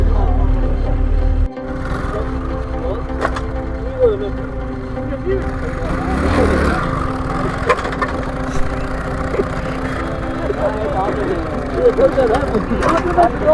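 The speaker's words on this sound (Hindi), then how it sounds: "ये ट्रैक्टर लगदा पिया जी, छोटी ट्राली लगदी पई है" A tractor engine runs steadily with a small trolley hitched behind, a low continuous rumble in a Pakistani village, with wooden creaks and knocks over it and people talking nearby.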